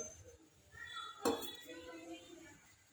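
A frying pan is set down on a gas stove with one sharp metallic clank, surrounded by quieter kitchen clatter and soft talk.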